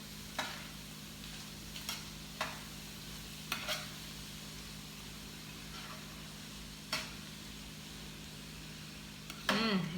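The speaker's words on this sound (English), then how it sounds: "I am going to mix this around" Pork egg roll filling with garlic stirred in a pan, giving soft scraping and mixing sounds with a few sharp utensil clicks over a steady low hum, fairly quiet and close.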